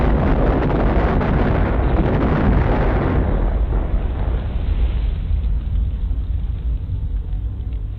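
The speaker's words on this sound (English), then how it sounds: "bombs rained down on the island, destroying fuel storage tanks and aircraft hangars" Bombs exploding in an air raid on an island base, destroying fuel storage tanks and aircraft hangars: a loud, sustained roaring rumble of blasts that eases slightly after a few seconds but keeps booming throughout.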